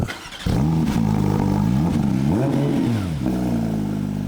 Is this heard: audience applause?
no